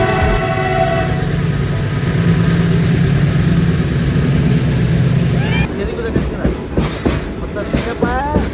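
A train on the Dudhsagar Waterfalls trek route rumbles past with a loud horn for several seconds, then the noise drops and people talk nearby.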